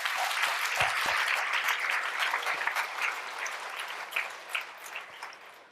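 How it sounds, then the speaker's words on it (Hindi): Steady applause from a large audience, a dense wash of clapping that holds for several seconds and slowly tapers off. "उन तक आपकी ताली की आवाज़ पहुँचे तो थोड़ा जोर से बजाते हैं।"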